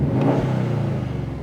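Subaru WRX STI fitted with an HKS Super SQV4 blow-off valve, its engine idling steadily close by in a low, even rumble with slight pulsing and no talking.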